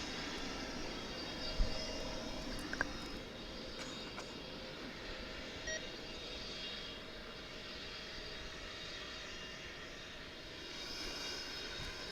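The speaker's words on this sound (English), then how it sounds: "that aircraft has now landed safely here at DFW" Aircraft at the DFW airport runway, a steady distant engine roar and rumble sustained for the whole stretch, with a couple of faint clicks near the start.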